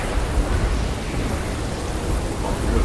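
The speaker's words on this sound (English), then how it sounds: "The rain pounding hard upon the ship is kind of hard to ignore." Heavy rain pounding on a ship in a thunderstorm: a loud, dense, continuous roar of downpour with low rumbling underneath, steady throughout and unaccompanied by any talking.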